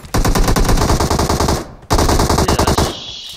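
Loud automatic gunfire in PUBG Mobile, rapid sustained bursts of shots, a brief pause, then another long burst trailing off.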